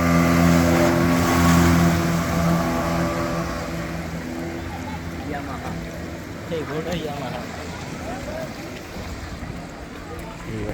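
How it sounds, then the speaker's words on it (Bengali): Speedboat on a park lake, its engine droning loud and close at first, then fading steadily as it moves away under wind buffeting, with people talking in the background. "এই যে দেখেন, বলতে বলতে চলে এসেছি, স্পিড বোর্ড এসে দিয়ে গেল।"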